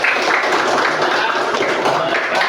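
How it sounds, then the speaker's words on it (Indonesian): A class of students applauding together, a steady, dense wash of clapping that stays fairly loud and even throughout with no pauses. "Tepuk tangan."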